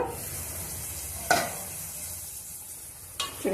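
Spinach and potato cooking in oil in a pan, a quiet steady sizzle broken by two sharp utensil scrapes or stirs, no voices.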